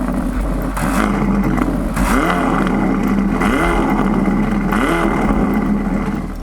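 A Ferrari Portofino's 3855 cc 90-degree V8 revs repeatedly, rising and falling in several sharp bursts, loud and close with a mechanical clatter underneath.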